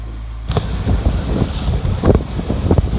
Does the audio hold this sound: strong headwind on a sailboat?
yes